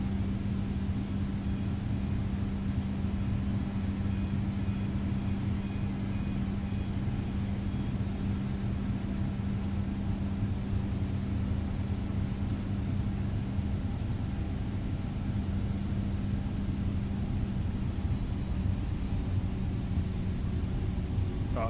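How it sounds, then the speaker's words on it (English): Steady, droning roar of Airbus A320neo jet engines in Microsoft Flight Simulator on Xbox Series S, a constant low rumble with a faint hum running unbroken and alone for over twenty seconds. "Oh, you guys hear those engines?"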